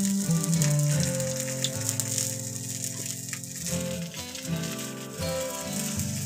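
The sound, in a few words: nigella seeds (kalo jeere) sizzling in hot oil for tempering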